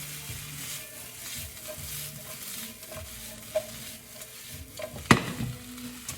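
Potatoes and Brussels sprouts sizzle and fry steadily in a pan as they are tossed and stirred, with scraping clatter and a sharp metallic clank near the end.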